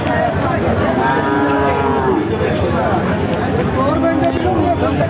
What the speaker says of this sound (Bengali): দেশি জাতের লাল বাছুর